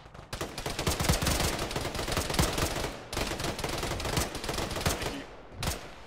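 Dense, sustained gunfire in the military shooter Arma, with rapid overlapping shots and bursts filling most of the clip, a brief lull near the middle and a final short burst at the end.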